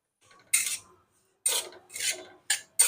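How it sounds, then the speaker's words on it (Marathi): Semolina is stirred as it roasts in a pan over a low-medium gas flame: about five short, dry scraping strokes, each separated by a moment of silence, close and fairly crisp. "गॅस मंद आणि मध्यम करून रवा भाजून घ्यायचा"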